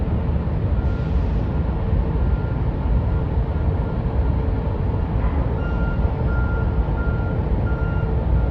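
Heavy, steady machinery rumble fills the air near a factory at night while a faint electronic truck reversing beep repeats steadily in the background.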